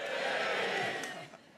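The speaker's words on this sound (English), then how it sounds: "you're up for having fun tonight, cheer now" A theatre audience at the Royal Variety Performance cheers loudly together, a dense burst of shouting and whooping that fades toward the end.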